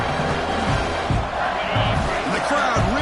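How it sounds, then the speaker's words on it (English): Football stadium crowd at a Penn State versus Michigan game roaring steadily near the goal line during a defensive stand, a dense continuous wall of noise with broadcast commentary audible over it. "And the crowd really making some noise now, trying to help out this defense to get this stop near the goal line."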